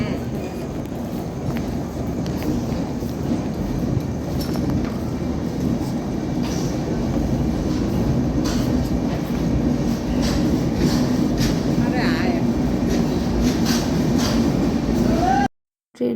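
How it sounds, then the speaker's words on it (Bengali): A passenger train pulls out of a station with a steady, loud rumble of wheels and carriages throughout, faint voices mixed in, cutting off abruptly near the end. "ট্রেনটা ছাড়ার সাথে সাথে এত স্পিড দিয়েছিল"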